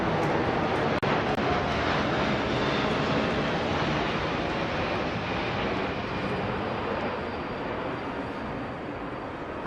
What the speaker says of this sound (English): we're seeing the C-17 Globemaster, a long-range strategic heavy lift transport, and behind it the BAE 146